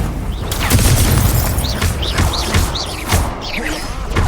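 Spell blasts from the Hogwarts Legacy video game, Confringo and Incendio, burst in rapid succession as booming impacts and fiery whooshes amid combat effects, loud and close.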